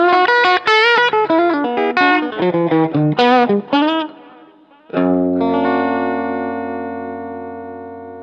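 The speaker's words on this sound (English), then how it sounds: "You just want to hear the guitar and amp." An electric guitar played through a Blugamp 1 amplifier plays a quick run of distorted, effected notes, then strikes a chord that rings out and slowly fades.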